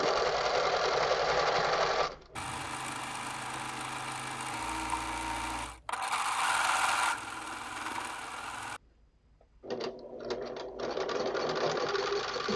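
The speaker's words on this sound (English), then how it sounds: "pivot that corner and sew up the long side" Domestic sewing machine running steadily while stitching the long side of a pillowcase seam, with bursts of loud close whirring broken by short pauses at the corner pivot and a brief back tack.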